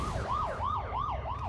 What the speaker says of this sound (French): j'ai entendu les sirènes de la police au loin